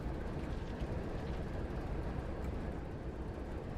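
Heavy train locomotive in Train Sim World 3, a steady dense rumble with broad low-end roar holding at constant loudness throughout, close and continuous with no voices.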